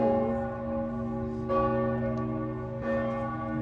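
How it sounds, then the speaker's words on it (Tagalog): Church bell ringing in Rome, a sustained tolling with rich lingering overtones and two fresh strikes about a second and a half apart, loud and close with no voices. "Oh, the bell is ringing."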